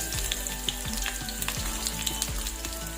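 Green chilli, onion, ginger and garlic sizzle steadily in hot oil in a pan, a dense continuous crackle broken by a few soft scrapes of stirring, with no talking.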